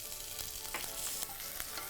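Spices for a tempering crackle and sizzle in a small amount of hot oil, a steady frying hiss with sharp pops and spits scattered through it, close and alone.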